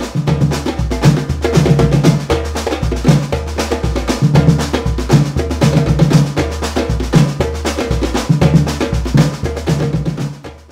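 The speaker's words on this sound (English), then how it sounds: "they have a rhythm, it's called Malés." Brazilian percussion ensemble from Salvador da Bahia plays the Malés rhythm, with deep drums thumping in a steady repeating pattern under dense, sharp strikes, loud and continuous throughout.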